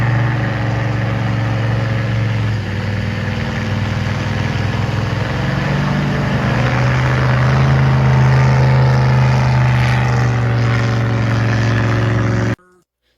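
Boat engine fitted with an upgraded racing performance starter, running steadily on the water with a loud, continuous droning hum that swells slightly midway before cutting off abruptly near the end.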